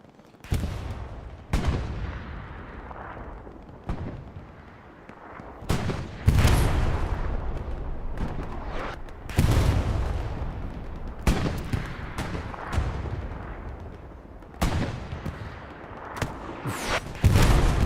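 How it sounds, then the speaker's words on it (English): Self-propelled artillery rounds landing in the Hell Let Loose game during a competitive match on the Omaha map: a dozen or so heavy, booming impacts arrive at irregular intervals, some close and loud, with rumbling decay between them and no talk. "SPA rounds landing right here"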